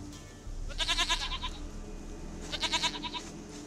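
Two distinct quavering goat bleats from The Witcher 3, each a rapid pulsing cry, heard clearly over a steady in-game ambient bed without voices.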